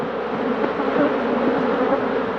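Cuban native stingless bees, known locally as earth bees, humming inside their hive in the hollow trunk of an old flowering piñón shrub, a dense, steady, close buzz of many insects with no pauses.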